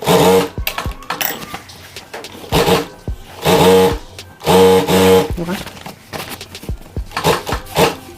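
A domestic sewing machine stitches a pajama seam in short bursts of rapid mechanical chatter, close and fairly loud. The bursts are separated by brief pauses and handling clicks.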